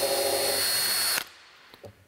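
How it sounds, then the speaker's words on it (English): A power drill whirs steadily at close range for about a second, boring a small screw pilot hole in a model steam engine, then stops abruptly, followed by a few faint clicks. "This drill's a little pilot hole for that screw to go down."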